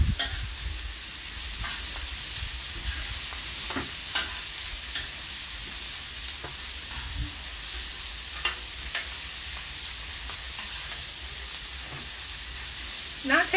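Chicken and shrimp sizzling in really hot pans on a griddle grill, a constant close frying hiss broken by occasional scrapes and clicks of a utensil.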